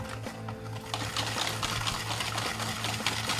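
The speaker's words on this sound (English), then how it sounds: "Now just give it a quick mix with this whisk just to make sure it's nicely incorporated." Whisk beating frangipane batter in a bowl, a rapid continuous clatter and scrape of wire against the bowl with a steady rhythmic pulse, close and fairly loud with no talking.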